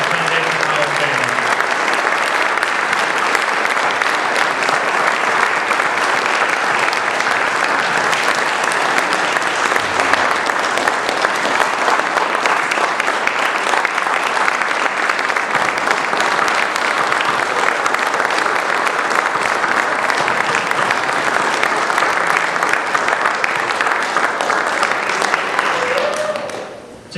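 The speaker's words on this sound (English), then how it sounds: "let's give another round of applause for this year's inductees" Audience at a high school Hall of Fame induction ceremony applauds the inductees, a dense, steady wash of clapping sustained for almost half a minute before tapering off at the end.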